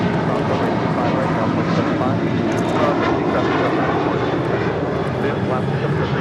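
An Alaska Airlines Boeing 737-800 jet departing LAX thunders with a loud, sustained engine roar, steady and near across the whole stretch.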